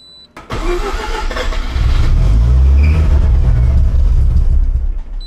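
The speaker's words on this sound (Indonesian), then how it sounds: "Dia punya RPM sangat rendah. Kita try start tengok." A Mazda RX7 FC3S with a vacuum leak cranks and catches, then settles into a loud, deep, uneven idle at very low RPM, close up with no talking.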